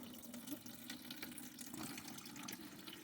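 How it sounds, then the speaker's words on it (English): Stale gasoline, mixed with some water, drains from the tank of a Craftsman pressure washer left outside, a faint steady trickle of liquid running into a container with a few soft splashes, no voices. "all the gas is drained out for the most part. I'm just going to let it drip for a while."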